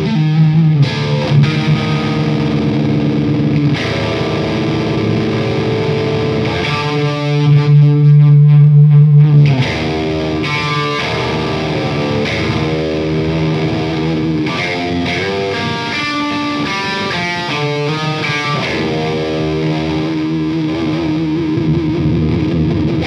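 Heavily distorted electric guitar through a Greg Howe Lick Box pedal at very high gain with all stages on, playing dense continuous riffs and held chords, loud and saturated throughout with no voices.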